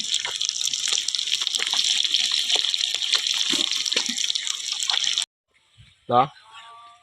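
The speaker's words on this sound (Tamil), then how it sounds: "வறுவலுக்கு உண்டான மீன் நல்லா ஃப்ரை ஆகிட்டு இருக்குது பாருங்கள்" Ayala fish sizzles and crackles in a hot frying pan, a dense steady spatter close up for about five seconds before cutting out, followed by a brief spoken voice.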